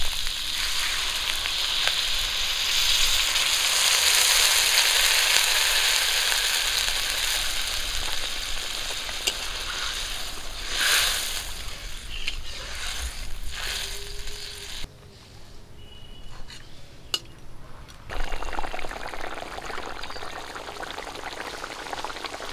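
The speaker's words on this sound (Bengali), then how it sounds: "এইবার একটুখানি জল দিয়ে দেবো।" A little water poured into a pan of frying pabda fish curry with cumin paste, a loud broad sizzle and gush that gradually eases, a brief quieter stretch, then renewed bubbling and frying.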